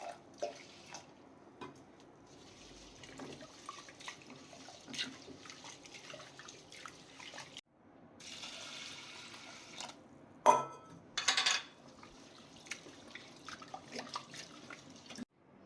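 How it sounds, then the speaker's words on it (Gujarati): Mixed lentils are washed in water in a kitchen, with soft splashing, swishing and drips, a quiet pause midway, then brief louder pours of water. "તેને આપણે 3 થી 4 પાણીમાં વોશ કરી લઈશું."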